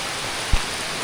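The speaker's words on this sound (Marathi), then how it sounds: "जस्ट पोचतच होतो तेवढ्यात मोठा पाऊस आला आहे" Heavy rain falls as a steady, dense hiss close around, with one brief low thump partway through and no voices.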